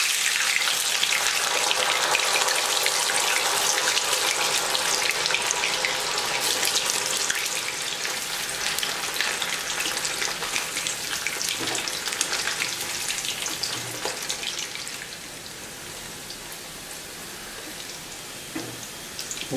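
Cauliflower florets deep frying in hot oil for cauliflower Manchurian, a loud, dense bubbling sizzle close by that runs continuously and eases somewhat toward the end, with no talking.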